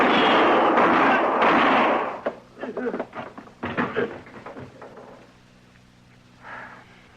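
A shootout in a Gunsmoke radio drama: loud, sharp gunshot bursts crack close at the start, then give way to tense spoken dialogue and a few fainter thuds.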